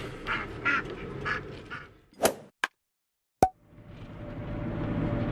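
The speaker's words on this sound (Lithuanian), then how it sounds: "Ančių gelbėjimo operacija" A few close duck quacks burst out in the first two seconds during a duck rescue, followed by sharp thuds and a brief silence, then a steady outdoor rush returns.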